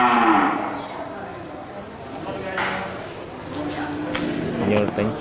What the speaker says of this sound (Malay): Ya, sapi-sapi super ya dari jenis sapi Aceh.